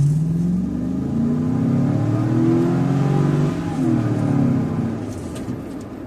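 A truck engine revs hard and climbs steadily at wide open throttle, loud and close, the pitch rising then easing off near the end.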